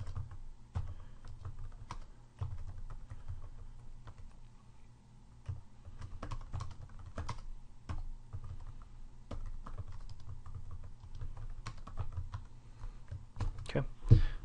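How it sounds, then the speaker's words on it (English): Keys tapping on a computer keyboard while a question is typed into a Moodle course page, in irregular bursts of close, fairly soft clicks, with a low steady hum underneath and a quicker flurry near the end. "I just simply type the question in there"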